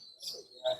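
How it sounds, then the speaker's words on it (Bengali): Budgerigars at a pet bird market give a couple of quick, high chirps and short twittering calls, faint and brief. "এটাও বদ্রি, শুধু কালার আলাদা।"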